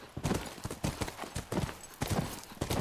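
Horse hooves clip-clopping in The Last of Us Remastered, a steady galloping rhythm of close, loud hoof strikes with a faint whinny possible, no talk.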